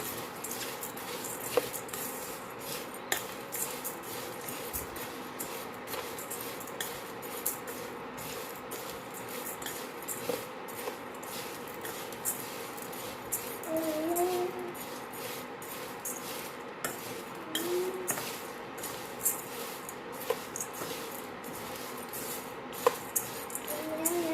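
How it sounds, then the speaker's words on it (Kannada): Cerelac powder ingredients dry-roasting in a pan while being stirred, giving a steady soft scraping and rustling with faint clinks of the spoon against the pan throughout. "ನೋಡಿ ಈ ರೀತಿ ಫ್ರೈ ಮಾಡ್ಕೊಳ್ಳಿ"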